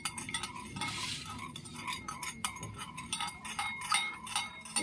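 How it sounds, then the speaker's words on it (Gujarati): Wheat flour pudla batter is mixed in a bowl with a spoon, producing repeated clinking and scraping strokes of metal on the bowl at a close, moderate level. "બધું આપણે સારી રીતે મિક્સ કરી લેવાનું છે"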